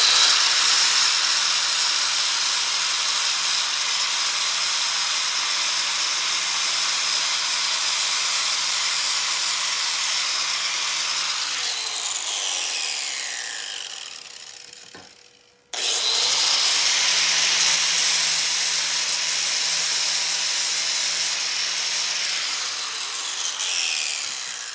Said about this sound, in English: I'm gonna go ahead and use a flat disc to take some of the paint off